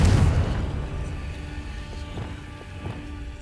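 A Confringo explosive spell goes off in Hogwarts Legacy with a loud boom at the start, then a rumbling fiery tail that fades over a few seconds, with faint crackles and small pops following.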